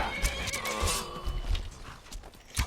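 A horse in the Skyrim video game neighs loudly while its hooves thud in an uneven clip-clop rhythm close by, with no talking over the sounds.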